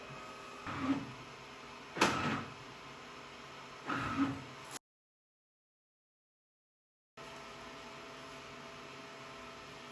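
An Epson F2100 DTG printer powering back on gives three short mechanical whirs and clunks about a second apart, then a brief total silence before a steady fan-like hum settles in, with no talking.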